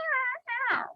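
Cats yowl outside at night, two drawn-out wavering cries in quick succession with a short gap, the second rising into a rough, strained wail before fading.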